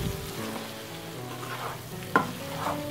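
Masala powder frying in oil in a pan for a spicy brinjal curry, stirred so it gives a steady soft sizzle with scraping spoon strokes and one sharp clink near the end, close up with no talk.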